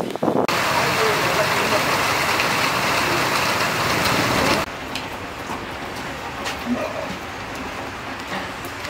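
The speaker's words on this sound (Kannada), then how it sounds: "ಮಳೆ ಬಂದ್ಬಿಡ್ತು" Rain falls steadily during outdoor village cooking, a dense, even hiss that is louder at first and then settles to a softer, continuous patter.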